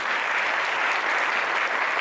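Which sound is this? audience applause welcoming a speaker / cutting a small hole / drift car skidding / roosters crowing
audience applause welcoming a speaker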